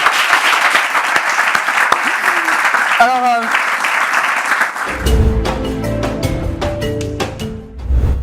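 A church audience claps for about five seconds, a full wash of applause, before it stops abruptly and is replaced by music and a voice speaking in French.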